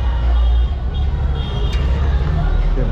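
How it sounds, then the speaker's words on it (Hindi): Heavy city traffic on a Raipur street during the Kanwar Yatra pilgrimage: a dense, loud rumble of buses, cars and trucks close by, with engine drone, occasional horn tones and faint voices mixed in. "बहुत ज़्यादा ट्रैफिक है"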